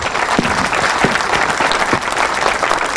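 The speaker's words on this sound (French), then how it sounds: "On applaudit très très fort." A seated audience at a book dedication ceremony breaks into loud, sustained applause, a dense wash of clapping hands that holds steady for a few seconds with no voices above it.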